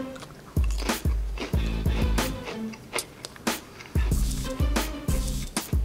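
Chicken-and-biscuit flavored crackers crunch crisply between the teeth, with a steady run of sharp, close bites and chewing crackles over several seconds.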